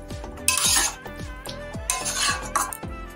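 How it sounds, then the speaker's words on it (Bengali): Chili chicken with spring onion leaves is stirred in a pan, producing repeated metallic clanks and scrapes of the utensil against the metal in a quick irregular rhythm, close and loud over a light sizzle. "দিয়ে একটু নাড়াচাড়া করবো 2-3 মিনিট মতো"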